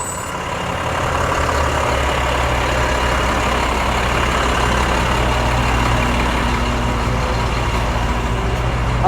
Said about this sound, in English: We got some loud dump trucks coming now, man.